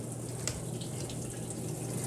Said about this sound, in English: I can hear the water going up, and it'll go up and then it'll start coming down